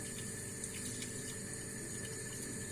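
Continuous rushing and splashing of hot liquid as boiled wheat for Sinop keşkek with meat is strained, a steady pouring wash with no talking.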